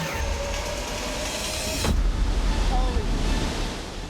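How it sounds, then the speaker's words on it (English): Cyclone Winston in Fiji, a loud constant roar of storm wind with a sudden surge and rumble partway through, dense and close. "Storm's really intensifying now."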